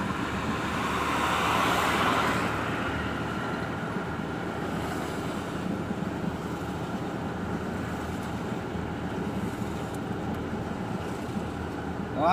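Trucks and trailers of various sizes are lined up in a long queue at the Rong Kluea border market, waiting to cross into Cambodia. Their low engines rumble and idle steadily throughout, blending with continuous road noise.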